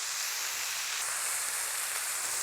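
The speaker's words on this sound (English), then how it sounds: "Nothing better than veggies and meat sizzling on the grill." Vegetables, Italian squash and zucchini with pork loin, sizzling in oil on a flat-top griddle, a steady close hiss that continues evenly throughout with no talking.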